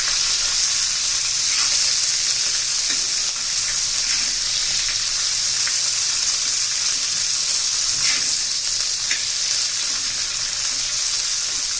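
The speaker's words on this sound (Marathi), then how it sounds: "मिरच्या घालायच्या आहे चांगल्या असं मऊ होईपर्यंत परतून द्यायचं आपल्याला" Green chillies and fennel seeds frying in a pan until soft, giving a steady, close, crackling sizzle that runs unbroken and evenly loud throughout, with no voices.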